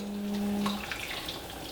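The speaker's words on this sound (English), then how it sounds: "And while the soup is still boiling, I'll just pour this in and let it boil." Whisked mixture poured into boiling beef vegetable soup, a steady close liquid pour and bubbling lasting under two seconds with no talk.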